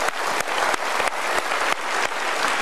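Studio audience applause on a Mario Teguh Golden Ways talk show, a dense, steady wash of many hands clapping close and loud, with small surges every half second or so and no talk over it.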